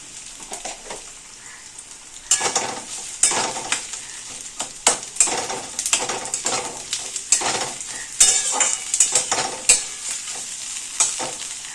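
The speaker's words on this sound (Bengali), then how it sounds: "পেঁয়াজের পরিমাণটা একটু বেশি হবে পেঁয়াজটাকে আস্তে আস্তে আমরা ভাজবো" Onions fry in a pan for prawn curry, giving a low sizzle that swells once stirring starts, with repeated scraping and clinking of a spatula against the metal, close and without speech.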